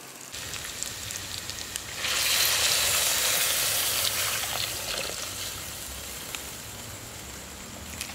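Milk poured into a hot pan of frying onions and spices for a Tamil egg curry sets off a loud, steady sizzle that swells suddenly, then settles into a continuous bubbling hiss with no talking.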